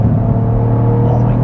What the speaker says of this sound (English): listen to that engine, it burbles on the overrun